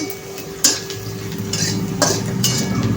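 A spoon scraping and clinking against a pan while turmeric is stirred into lightly browned onions for potato bhaji, a few sharp metallic knocks over a soft sizzle, close and without talk.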